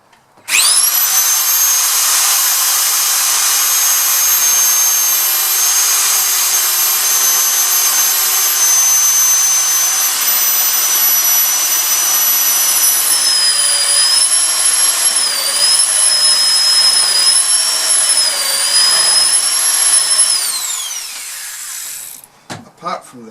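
Woodworking router cutting into wood for a grandfather clock, a loud sustained high-pitched whine with slight pitch wavers over about twenty seconds, then spinning down and stopping.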